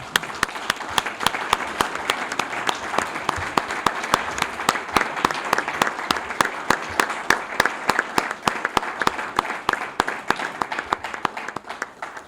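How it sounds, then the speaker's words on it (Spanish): Audience applauding band musicians at a concert presentation, steady sustained clapping with sharp individual claps standing out in an even rhythm, continuous and fairly loud throughout. "este aplaudimiento es para vosotros"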